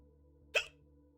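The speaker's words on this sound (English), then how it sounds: "And I got the hiccups." One sharp human hiccup, close and fairly loud, pops out alone over a steady low electronic hum during a computer game playthrough.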